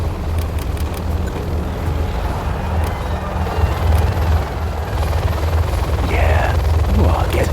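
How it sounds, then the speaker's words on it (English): A Helix helicopter in the strategy game C&C Generals Zero Hour, with steady rotor and engine thrum droning loud and continuous amid game battle noise, plus brief sharp effects near the end. "Our new Helix helicopter should assure your success."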